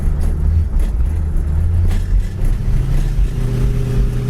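A 1964 Ford Galaxie engine revs steadily up close, a loud continuous low rumble with slight swells in pitch and no talk over it.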